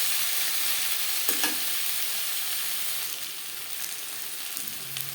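Snake gourd stir-fried with grated coconut in a pan over a medium-high flame gives a steady, close sizzle with occasional scraping stirs, softening slightly toward the end.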